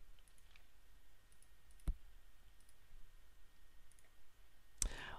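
Two faint, sharp mouse clicks, widely spaced, selecting a button in the Fritzing software over a quiet room hush.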